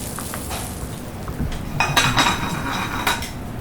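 Cauliflower and fava beans go into a pan with onion, bringing scattered clinks and scrapes of a utensil against the pan over a soft sizzle, with a few sharper clatters midway.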